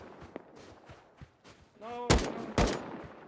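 A few AK rifle shots in a video game, two loud sharp cracks close together near the end, preceded by faint clicks and thuds, with no talking.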